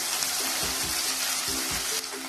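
Green chili and curry leaves fry in a pan for wheat rava kichadi, giving a steady, close sizzle throughout with a few soft stirring scrapes and no talk.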